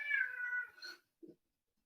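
A cat gives one drawn-out, clear meow close by in a quiet room, followed by a soft, brief second chirp after a pause.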